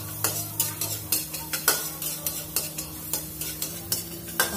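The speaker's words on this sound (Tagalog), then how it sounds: "So, lagay ko na yung chopped onion and garlic." Chopped onion and garlic sautéing in a pan, with a continuous sizzle under repeated clinks and scrapes of a utensil stirring against the pan, close and fairly quiet, no talking.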